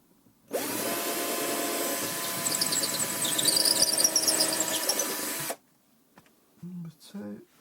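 Screws being driven into a PC case to mount an Asus ROG Strix B550-F Gaming motherboard give a steady, close whirring squeal lasting about five seconds, followed by a short stretch of talk.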